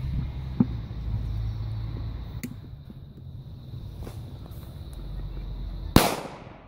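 On New Year's Eve, a couple of small pops crackle faintly, then a single sharp, loud firecracker bang cracks out near the end.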